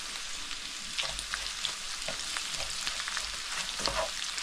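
Minced meat and vegetables fry in a pan for a homemade samosa filling, giving a close, steady sizzle broken by occasional scraping stirs, with no voices.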